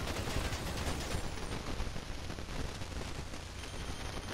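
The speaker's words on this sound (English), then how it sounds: "Can I just get my AK out to try and light this?" An AK rifle fires in a continuous, dense stream in the video game GTA 5, loud and close, the rapid shots blurring into a steady roar throughout.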